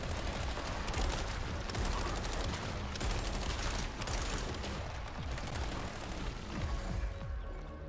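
Rapid bursts of automatic gunfire and scattered shots in the video game Toxic Commando, a dense, continuous firefight that stays loud and busy throughout.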